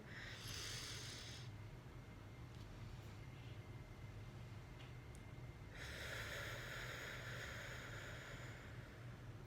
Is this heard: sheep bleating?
no